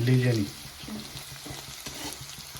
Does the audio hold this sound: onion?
yes